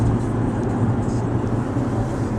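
A car driving down the road on the way home, a steady low engine and road rumble heard from inside the vehicle with little variation.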